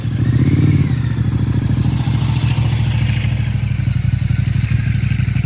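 BMW GS motorcycle arriving outdoors, its engine a steady, rough, low-pitched throbbing rumble close by, with a faint clatter over the top and no voices.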